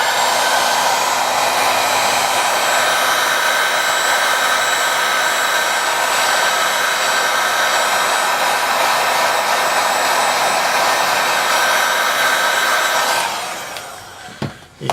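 A hair dryer blows a steady, loud whoosh while heating the screen of a Motorola Z2 Force phone to fix screen peeling. It runs continuously at close range, then cuts off abruptly near the end.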